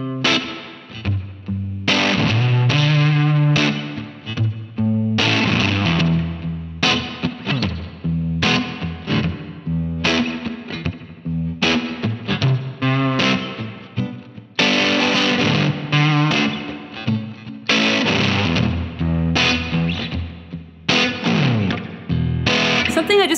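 Electric guitar playing a song at a slow tempo, with distorted, chorus-tinged chords and single-note lines ringing out alone in a steady phrase.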